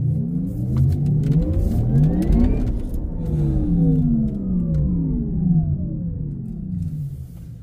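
A Porsche Taycan Turbo electric car accelerates hard, its rising motor whine sweeping up in pitch through several steps while a steady road rumble fills the cabin. No one speaks.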